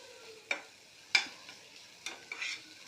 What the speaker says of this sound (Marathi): त्यानंतर आपण हे मसाला थोडा शिजवून घेऊया. कांदा टॅमॅटोमध्ये छान परतून घेऊया.